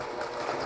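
Electric mixer running on very low speed through thick, dry oatmeal raisin cookie dough, a steady close whirring hum that holds level for under a second, with no talk over it.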